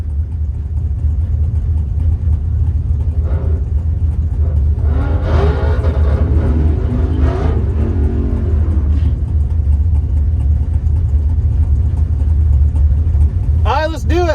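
A turbocharged Dodge Dakota R/T with a stock bottom end sits near the drag strip's burnout box, its engine a loud, steady low idle rumble with a few brief rising revs while people talk over it.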